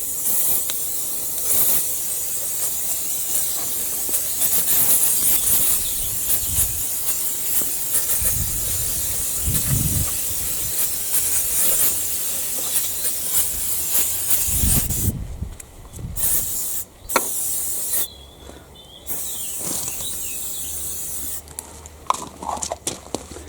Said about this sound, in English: spray it liberally on the underside there, and then it'll stop the grass and mud sticking so much